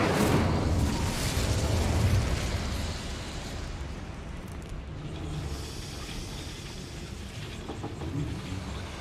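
A fiery Incendio spell goes off in Hogwarts Legacy: a loud roaring burst of flame that fades over a few seconds into a steady, softer crackling rumble.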